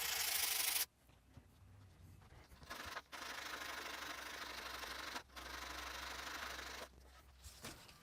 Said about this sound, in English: the sanding.